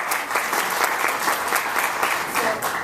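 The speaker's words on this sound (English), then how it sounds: "Give our panelists a round of applause." Audience applause for a panel at a forum on expanding school breakfast in Virginia: steady, dense clapping from a full room, fairly loud and continuous throughout, with no talking over it.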